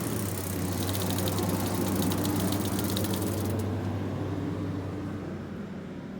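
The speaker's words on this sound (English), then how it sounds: "I had a car go by" A passing car rolls by on the road, a broad, loud whoosh of tyre and engine noise that holds steady and then eases off, with a faint rapid clicking fading out midway.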